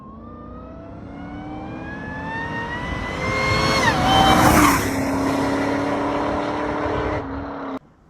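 Pontiac G8 with a supercharger on 6 to 7 psi of boost and stock pulleys, engine revving up to a loud peak with a rising supercharger whine, then holding steady before cutting off abruptly near the end.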